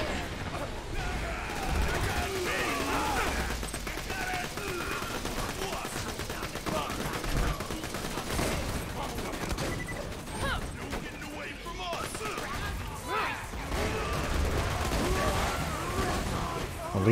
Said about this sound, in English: That sounds like an enforcer shooting a launcher, I guess.